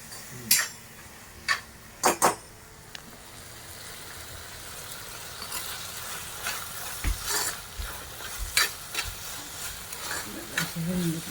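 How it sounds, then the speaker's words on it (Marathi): Masoor dal with salt is sautéed in a pan, a soft continuous sizzle under repeated sharp scrapes and clinks of a spoon against the pan, close by and irregular, louder at the start. "थोडी परतून घेऊ"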